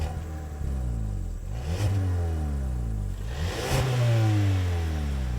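Turbocharged EcoBoost engine of a Ford Maverick pickup with an 8-speed automatic accelerating hard, rising revs sweeping up through gear changes, loud, close and steady with no talk.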